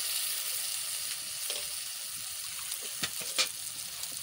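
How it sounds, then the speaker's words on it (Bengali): Pieces of Bangda fish fry in spiced oil with a steady, quiet sizzle, broken by a few sharper pops and crackles near the end. "এবারটা মাছ কটা দিয়ে দিচ্ছি।"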